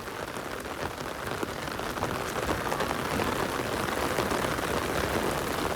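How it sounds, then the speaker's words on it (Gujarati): Heavy downpour in a village street in Vav, a dense, loud, continuous roar of rain drumming on surfaces close by, with no voices over it. "ફૂલ વરસાદ વધી રહ્યો છે."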